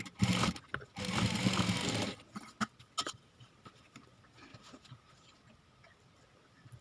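A sewing machine stitches lace onto a princess-cut blouse in two short, loud whirring runs close by, followed by light clicks and handling noises as the stitching stops.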